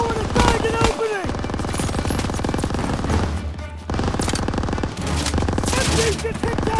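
Machine gun fire in Call of Duty: WWII rattles in loud, rapid, continuous bursts with heavy battlefield noise, while voices shout over the shooting.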